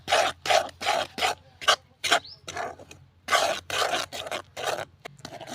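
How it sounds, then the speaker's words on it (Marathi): Sesame seeds and peanuts being stirred quickly in a pan for sesame-peanut vadi, giving repeated close, raspy scraping strokes in a steady rhythm with brief pauses between them. "आता हे मिश्रण आपल्याला पटपट असं मिक्स करून घ्यायचं आहे."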